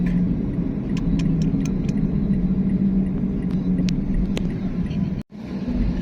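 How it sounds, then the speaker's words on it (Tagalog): Heavy road traffic in Guagua, Pampanga, Philippines: a dense, steady rumble of car engines close by, continuous throughout with brief sharper accents and one momentary dropout near the end. "sobrang traffic po dito sa may Guagua, Pampanga"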